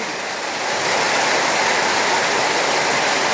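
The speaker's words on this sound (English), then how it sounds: "We have our own little raging river." Flash flood water rushing like a raging river during a hailstorm, a loud continuous broadband roar that swells in the first second and then holds steady, close by with no voices.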